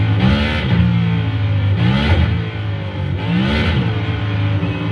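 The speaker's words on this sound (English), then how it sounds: "we're going to do a first gear start here again" NASCAR Next Gen race cars accelerate from a first gear start, engines roaring loudly in repeated rising surges as revs climb and shift, heard from inside or close to the car.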